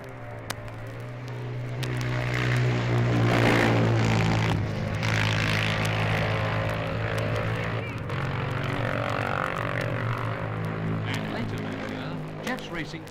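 A Norton 350 single-cylinder racing motorcycle in the 1959 Junior TT on the Isle of Man, a steady loud engine drone holding a sustained note, with a voice speaking over it.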